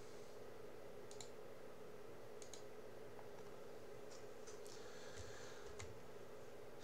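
Soft clicks of a computer keyboard as a note is typed, scattered faint taps in irregular clusters over a steady low background hum, quiet and close, with no talking.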